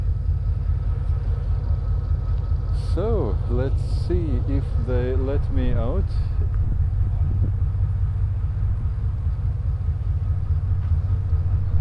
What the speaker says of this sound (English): That's the locomotive, and that's the three coach train.